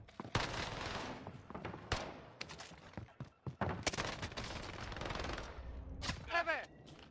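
Rapid video-game gunfire in bursts and single shots, crackling loud and close, with players talking and shouting over it throughout.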